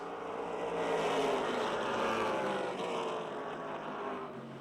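Race cars, including car 33, roar around the Motordrome Speedway oval in a steady, loud, continuous engine drone that swells and fades slightly as the pack passes, with no voices.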